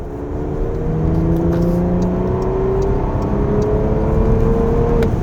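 A Porsche Panamera Turbo S E-Hybrid accelerates, its engine and electric motor pulling together in a rising, steady whir and drone heard from inside the car, with no talk.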